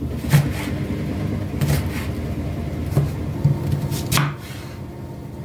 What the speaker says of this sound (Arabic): هلا بدي أقطع الفلفلة الحمراء